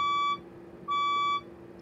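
A red Felicity fire alarm sounds two loud electronic beeps, each a steady, pure tone of about half a second, separated by a brief gap, with faint room noise between.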